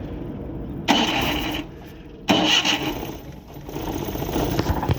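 A car engine idles after its distributor has been adjusted, running with a busy mechanical chatter and two sharp rises in revs before settling back to a steady run.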